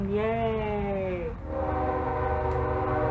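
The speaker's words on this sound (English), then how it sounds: "It's a train." A train horn sounds loud and close in two long blasts, the first with a falling pitch, over the steady rumble of the passing train.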